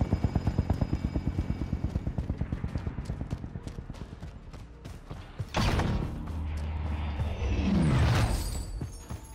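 A military helicopter in the Call of Duty Modern Warfare video game departs, its rotor chopping in a fast, loud, regular beat that gives way to a rising whoosh and roar as it lifts off and pulls away.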